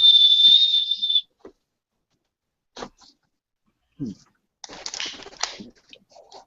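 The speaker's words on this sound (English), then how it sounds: "You're gonna choke on that whistle one of these days, Cork" A whistle attached to a backpack gives one shrill, sustained blast at the start, followed by quiet gaps and scattered short rustles and clicks.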